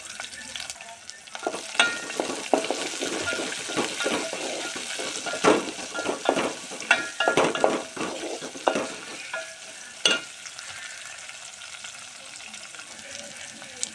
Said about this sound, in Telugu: పచ్చిమిర్చి ఉల్లిపాయలు బాగా వేగిన తర్వాత మంచిగా ఎర్రగా వేగాలి